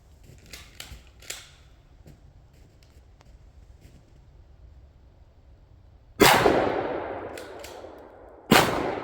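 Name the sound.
shotgun firing number 4 shot at a well pressure tank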